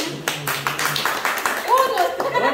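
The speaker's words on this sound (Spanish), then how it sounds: "¡Bravo! ¡Un aplauso!" Guests clap at a wedding-related gathering, a few scattered claps early on, soon buried under loud excited talking and a shouting voice that runs throughout.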